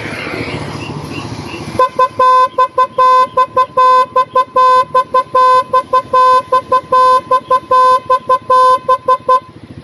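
A Pop-Up Doll horn plays its third tone, a rapid series of loud, bright, clipped toots in quick, slightly uneven rhythm, following a brief stretch of soft background noise.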